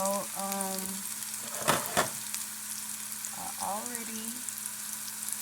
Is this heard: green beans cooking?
yes